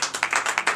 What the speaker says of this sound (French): je vous demande d'applaudir et très fort